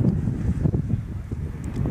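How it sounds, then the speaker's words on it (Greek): Strong wind buffets the microphone outdoors in Kozani, Greece, giving a steady low rumble with gusty surges and no clear voices. "Τώρα φυσάει."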